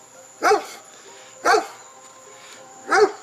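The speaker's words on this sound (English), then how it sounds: "That's my neighbor's dog." A neighbour's dog barks three times in separate, fairly loud bursts about a second apart, heard across a backyard with a faint steady tone underneath.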